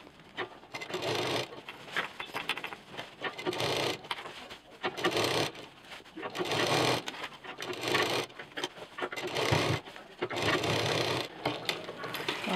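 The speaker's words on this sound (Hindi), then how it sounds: "इसको अंदर की तरफ दबाते हुए सिल देंगे" Short repeated bursts of a sewing machine stitch the finishing seam on a backpack bottle cover, each run lasting about a second with brief gaps of fabric rustling between them, close and moderately loud.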